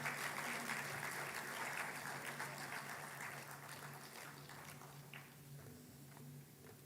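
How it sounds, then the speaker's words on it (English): Steady, continuous applause from an audience honoring category winners at the ICCRIP 2026 conference at NICMAR University in Pune, heard as a broad wash of clapping that fades gradually, fairly distant and unaccompanied by speech. "Please put your hand together in applause for them."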